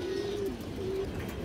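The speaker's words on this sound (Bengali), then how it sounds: "কালো ঠোঁটের চুইনা মাদি কবুতর" A black-beaked white female pigeon of an old ring-eyed line gives a brief, soft, low coo, faint and close, in a quiet setting.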